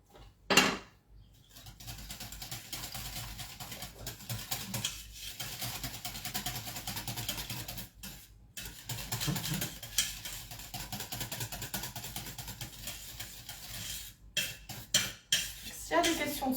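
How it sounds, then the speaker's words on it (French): A dessert mixture for a red-fruit, vanilla and white-chocolate charlotte is stirred in a bowl, giving continuous soft scraping and clinking of a utensil against the dish, fairly quiet, with a few brief pauses. "je mélange le tout jusqu'à ce qu'on ait un mélange bien homogène"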